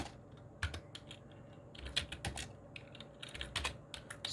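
Fast, uneven typing on a computer keyboard in a dark bedroom, with dense clusters of close, crisp key clicks and occasional louder keystrokes over a low steady hum.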